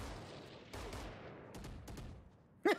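Enemy gunfire in an Overwatch match plays as a dense, steady rattle of rapid shots throughout, with a sharp louder burst near the end.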